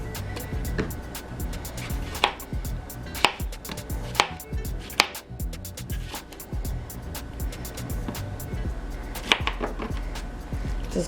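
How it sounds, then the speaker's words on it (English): Knife chopping cucumber pieces on a cutting board, irregular sharp cuts scattered through a steady background hum, moderately close, no talking. "chop your cucumbers into pieces"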